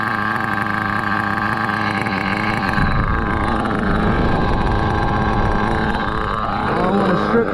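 An HPI RS4 RC car with a big block engine runs continuously, making a loud, steady engine drone close to the microphone that shifts slightly in pitch partway through.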